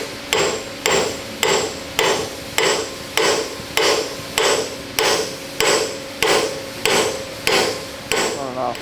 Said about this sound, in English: I'll tap it around with the chisel a bit more